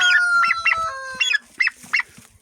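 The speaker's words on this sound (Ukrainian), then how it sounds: "Дуже великий індик, індички маленькі." A large turkey gives several loud, honking calls in short bursts, nasal and harsh, gobbling nearby, with quieter squawks between.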